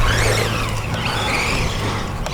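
HBX 12815 Protector 1:12 scale 4x4 RC race truck driving on grass, its electric motor whining loudly and close with a steady low drone and shifting pitch as it accelerates.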